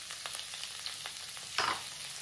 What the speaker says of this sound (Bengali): ফুলকপি ভাজা হলেই ডিমটা ভেজে নেব।